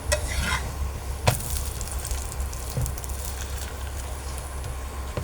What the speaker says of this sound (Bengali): মচমচ করে চেপে চেপে ভাজা হচ্ছে।